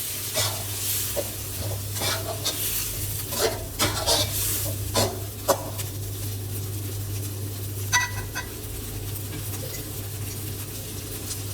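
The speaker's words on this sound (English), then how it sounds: "Add the pre-cooked pork ribs, stir and fry them until well coated in the chili and coconut." Pork ribs stir-fried in chili and coconut for a Thai choo chee curry: a close, steady sizzle with repeated scraping stirring strokes, no voices.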